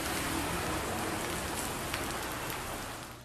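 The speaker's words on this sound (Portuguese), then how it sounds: "O barulho do granizo atingindo os carros que estavam estacionados e as construções era ensurdecedor" Hailstones pelt parked cars and buildings during a sudden São Paulo storm, a dense, loud, unbroken patter that holds steady before easing slightly at the end, with no voices.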